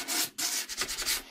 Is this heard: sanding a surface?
yes